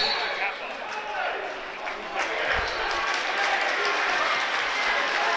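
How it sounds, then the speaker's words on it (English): St. Joe's fans clap and cheer in a gym during a high school basketball game, a sustained, fairly loud applause from the crowd with a commentator talking over it. "St. Joe's fans are clapping, and it'll be St. Joe's ball."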